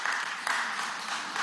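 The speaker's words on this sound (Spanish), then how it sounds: "mi aplauso desde aquí. Nuestro aplauso." Steady applause from a crowd fills the whole moment, a dense patter of many hands clapping without pause.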